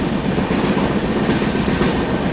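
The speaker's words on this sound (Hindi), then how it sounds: "DFC में चल रही मालगाड़ी के साथ पैरेलल रेस।" Steady rumbling rattle of the Northeast Express passenger train running at speed beside a freight train on a dedicated freight corridor in Uttar Pradesh, heard continuously from on board.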